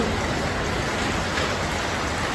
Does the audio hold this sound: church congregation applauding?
no